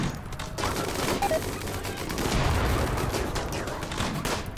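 Gunfire in the colony game RimWorld, a continuous dense barrage of shots layered with a rumbling battle din, steady and fairly loud throughout with no speech.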